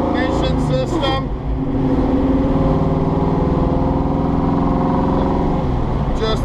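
A 1969 Ford Mustang Mach 1 with a 428 engine and upgraded ignition drives along, its engine giving a steady, loud, throaty drone throughout, with brief voice sounds near the start and end.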